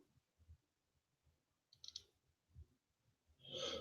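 Two quick clicks of a computer mouse, a sharp pair near the start and another burst at the end, close and crisp over a quiet background.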